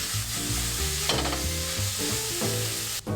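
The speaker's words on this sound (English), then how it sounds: "First, cook meat with salt and pepper." Meat seasoned with salt and pepper fries in a pan, a steady close sizzle with brief stirring scrapes over a low background hum.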